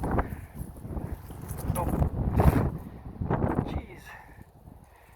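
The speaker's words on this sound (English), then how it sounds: "This wind is insane right now." Strong wind gusts blow across an open lake during a bass fishing outing, roaring as broad, fluctuating rushes that swell and fade over several seconds, with a brief spoken exclamation.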